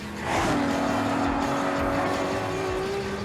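A Ferrari hybrid supercar drives past with a loud, rising engine note that sweeps up and holds steady, with a faint tire hiss underneath, close and continuous for a few seconds.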